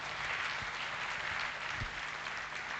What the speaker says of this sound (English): We can have a huge round of applause for all of them.